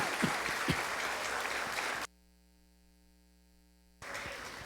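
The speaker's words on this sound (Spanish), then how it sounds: "Dale un aplauso a Cristo." Congregation applause at a Christian sermon, a dense burst of clapping that cuts to near silence with faint electrical hum for two seconds, then resumes.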